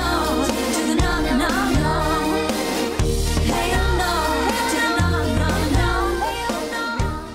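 Heavily compressed music pounds on with dense, loud, tightly squashed layers and a steady bass pulse that shifts every second or so, unbroken from start to finish, with no voices.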